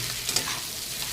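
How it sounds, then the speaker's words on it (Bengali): Fried pointed gourd tipped into a pan of frying onions and slit green chillies, giving a steady soft sizzle with a brief clatter of pieces landing, no voices. "এখন এর ভিতরে যে আমি পটলটা ভেজে রেখেছিলাম সেই পটল কটাকে আমি দিয়ে দেবো"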